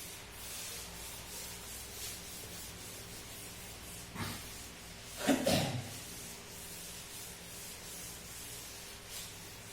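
A lecturer rubs writing off a board during a class, giving a few brief, soft scrubbing strokes midway through a quiet room with steady background hiss.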